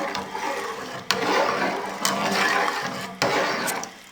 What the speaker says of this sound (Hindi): अब चम्मच की मदद से इसको हम अच्छे से मिक्स कर लेंगे।